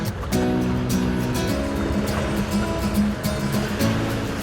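Waves wash continuously against a fishing boat off Jeju as the winter wind strengthens, a dense, loud roar with a low engine hum running underneath.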